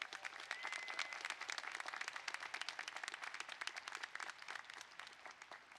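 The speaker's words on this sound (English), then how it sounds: "a big round of applause" A crowd at a college of engineering commencement ceremony gives a round of applause, dense and continuous clapping heard fairly faintly, as if from a distance, throughout the clip.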